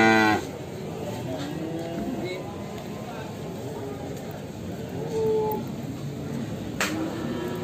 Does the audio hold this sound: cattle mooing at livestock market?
yes